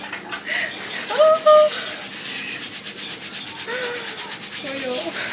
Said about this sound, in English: Then he takes some warm soap and gently rubs it onto my feet.